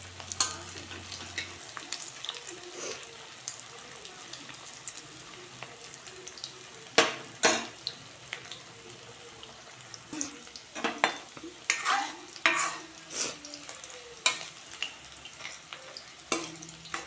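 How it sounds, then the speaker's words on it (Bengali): Chicken 65 pieces fry in hot oil with a steady, moderately loud sizzle, broken by sharper crackles and clinks of utensils against the pan. "একটা একটা করে কিন্তু আমি চিকেনগুলো তেলের মধ্যে অ্যাড করছি"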